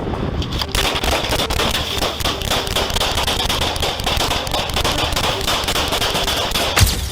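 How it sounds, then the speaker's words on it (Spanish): A rapid burst of many pistol shots, sharp cracks fired in quick succession over several seconds during a police chase, loud and close, followed by a louder single shot near the end. "de repente sacó una pistola y disparó múltiples tiros"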